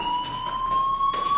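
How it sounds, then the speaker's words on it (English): Fire alarm ringing in the video game Life Is Strange, a steady electronic tone sounding continuously and fairly loud throughout, with no talking. "Hey, do you hear that fire alarm? That means you should be outside."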